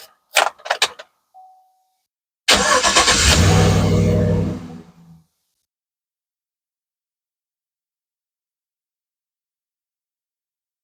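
A 2009-2015 Chevy Silverado's ignition key is cycled off and on: a few brief clicks and a short chime, then about two and a half seconds of loud engine cranking or running noise, followed by silence.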